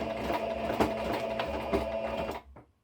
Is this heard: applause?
no